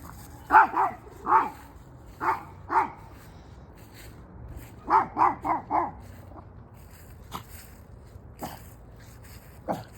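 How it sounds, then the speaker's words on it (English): A dog barks in short bursts, two quick barks, a pause, two more, then a run of four, followed by a few fainter yips and quiet sounds. "She starts barking"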